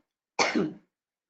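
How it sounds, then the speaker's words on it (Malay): One short, close cough that sounds rough and throaty, like throat clearing, alone in otherwise silent surroundings. "batuk pula."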